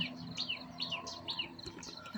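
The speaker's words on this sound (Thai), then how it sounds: "มีเสียงนกร้องนะคะ บินผ่านเต็มไปหมดเลย" Birds sing outdoors in the early morning, repeated quick high chirps and tweets in a lively rhythm, moderately near over a soft background hum, with no voices.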